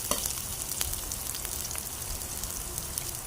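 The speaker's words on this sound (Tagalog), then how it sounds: "Ilagay ang sibuyas at bawang. Yan. Igisa-gisa nyo lang yan." Onion and garlic sautéing in a frying pan for tochong bangus, a steady close sizzle with occasional small pops and stirring scrapes, no voices.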